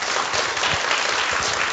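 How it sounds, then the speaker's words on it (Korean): Dense applause from a church congregation welcoming a guest professor to a family ministry seminar, a steady close wash of many hands clapping with no talk. "박수로 환영하도록"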